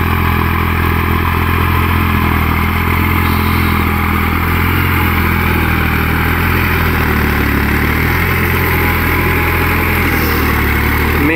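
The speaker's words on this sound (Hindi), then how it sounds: "अभी 1400 आरपीएम पे चल रहा है ट्रैक्टर" A tractor in low fourth gear runs at 1400 rpm, pulling a 7-foot Maschio rotavator through a field under heavy load, producing a loud, steady, clattering engine drone that stays constant throughout with no talk.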